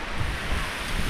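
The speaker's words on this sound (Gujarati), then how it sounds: "દરિયાકાંઠો છે, જોઈ શકો છો" Sea waves wash onto the shore at Kavi Kamboi, near the Stambheshwar Mahadev temple on the Gujarat coast. The surf is a steady, broad roar blended with wind noise on the microphone, with no voices.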